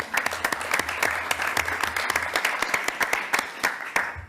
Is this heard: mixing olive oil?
no